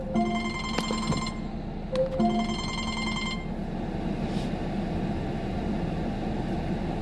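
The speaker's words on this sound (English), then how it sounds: "getting phone calls and shit" A telephone bell rings in two clear, repeated bursts near the start, then stops, leaving steady background hum with no talk.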